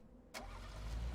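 A car engine in the PUBG video game cranks and catches with an abrupt start, then settles into a low, rising rumble, close and alone without any talking.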